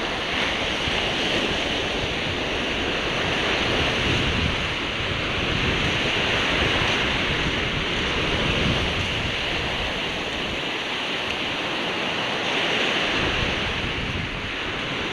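Sea waves washing onto a beach at Sattahip, Chonburi, a loud continuous surf roar mixed with wind buffeting the microphone, with no voices.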